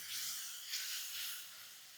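Soaked moong dal frying in hot oil gives a steady, bright hiss of sizzling, fairly quiet and even, swelling slightly a couple of times over two seconds.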